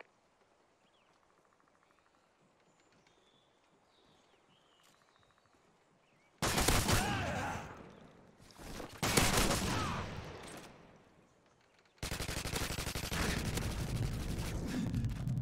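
Modern Warfare 2 gunfire: after a quiet stretch of faint background, loud sustained bursts of rapid automatic fire break out, pause briefly, then resume as a continuous barrage to the end.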